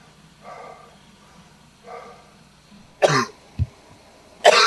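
Several harsh, close coughs burst out from a cyclist during Race Across America 2002, a couple of softer ones first, then two loud, raspy hacks with quiet gaps between.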